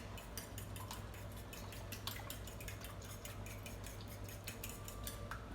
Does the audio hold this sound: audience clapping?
no